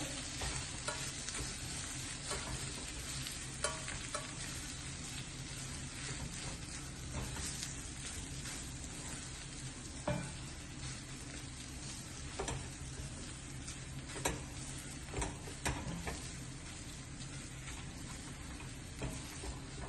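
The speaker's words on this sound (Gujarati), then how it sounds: "બધું પાછું મિક્સ કરી દેવાનું" Onion kachori filling is stirred in a pan over a low flame, with a constant soft sizzle and scattered scraping taps of the spoon against the pan.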